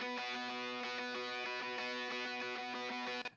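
Melody guitar part captured through a 414-style condenser microphone (a WA14 copy of the EB circuit), a sustained distorted tone with steady repeated notes, loud and alone.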